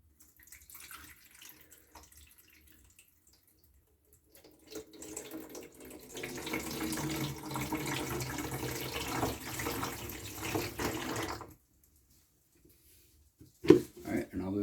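Water is poured into the tank of a Dometic SaniPottie 970 Model 976 portable toilet, a steady splashing flow lasting several seconds before stopping, followed later by a brief clunk.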